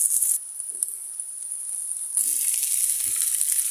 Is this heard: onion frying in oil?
yes